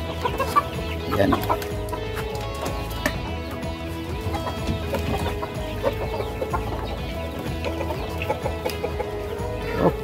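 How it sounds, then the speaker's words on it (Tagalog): Rhode Island Red chickens cluck and squawk continuously at close range on a free-range farm as they are being caught, with scattered agitated calls and a brief spoken word amid the flock. "So for now ay huhulihin muna namin yung mga Rhode Island Red."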